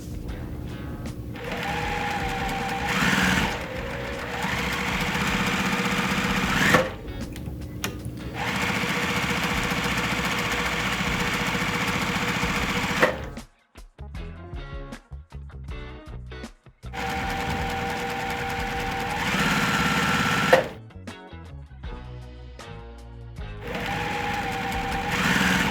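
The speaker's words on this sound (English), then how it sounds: "Now it's time to start sewing." A sewing machine stitches quilt blocks in long steady runs of rapid mechanical whirring, close and fairly loud, broken by two pauses filled with lighter clicks and handling noise.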